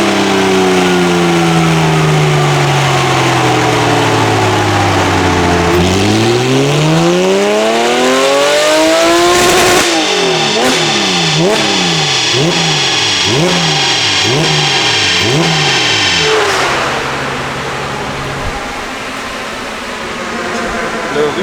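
A Porsche rally car engine revving hard and bouncing repeatedly off the rev limiter in a rapid rhythmic stutter, with rising sweeps between cuts, loud and close, before settling to a lower idle at the end.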